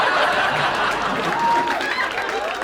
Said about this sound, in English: Big round of applause for Aishwarya and Karan